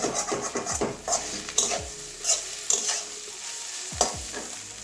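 Egg and pointed gourd fry in a pan with black pepper, giving a steady close sizzle broken by repeated scraping stirs of a utensil against the pan, with no voices.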